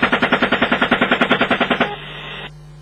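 Military machine gun fires a rapid, steady burst of about seventeen loud, evenly spaced shots, then cuts off abruptly, leaving a lower residual rumble and hiss that stops shortly after.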